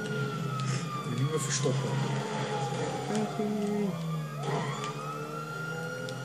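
A police car siren from the video game GTA 5 wails in rising and falling sweeps under steady engine and traffic noise, while a voice speaks over it.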